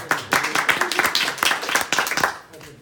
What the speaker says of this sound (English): I think we all owe you a round of applause for all your organizing.